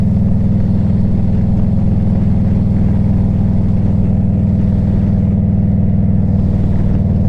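A 1998 Harley-Davidson Electra Glide Classic motorcycle cruising at 60 mph, its engine a loud, steady low drone with constant rushing wind and no change in pace.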